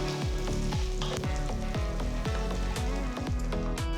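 Garlic, ginger, onion and green chillies sauté in a pan for a South Indian coconut coriander chutney, giving a steady close sizzle throughout with no talking.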